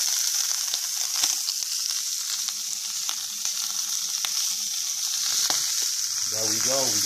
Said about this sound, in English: We got the steak going. Still is really hot.